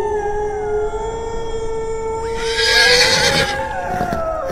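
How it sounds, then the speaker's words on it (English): Spooked horses in a Dracula horror audio drama, with long drawn-out whinnying tones followed by a loud, shrill neigh near the middle that fades into a steadier wail. "What's wrong with the horses?"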